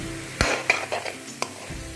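Olive pickle being stirred in a pan, the spoon scraping in a few distinct strokes over a low steady sizzle, close and fairly quiet, with no talking.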